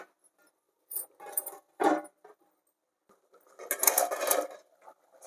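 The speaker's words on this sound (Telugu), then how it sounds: "మూత పెట్టి పెట్టాలి అట్లనే." Metal clatter as a lid is set on a cooking pot of country chicken curry: one sharp clank, then a longer rattling scrape, close by with quiet gaps between.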